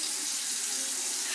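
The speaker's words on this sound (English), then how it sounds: "the next step is you turn on the hot water." Hot water runs steadily from a bathroom tap into a sink before handwashing, a continuous close hiss and splash with no voices.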